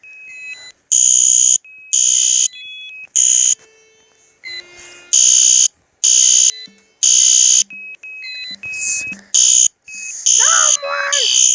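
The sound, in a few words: fire alarm ringing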